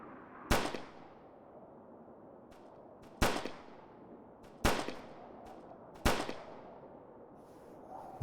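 Five sharp gunshots ring out from a first-person gun in the Winter Warfare Survival video game. They come singly at irregular intervals, each a loud crack with a short echoing tail over a faint wintry ambience.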